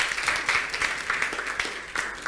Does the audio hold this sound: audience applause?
yes